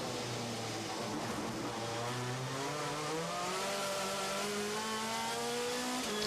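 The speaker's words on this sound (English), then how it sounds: "So you even hear the Citroen struggling a little bit there. I thought he was going to grab another gear. It sat there revving away for so long." A Citroen touring car in WTCC qualifying at Shanghai holds its engine at a steady drone, the pitch creeping slowly upward as it keeps revving without shifting, heard at a distance and fairly faint.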